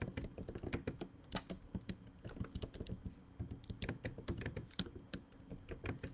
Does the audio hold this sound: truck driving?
no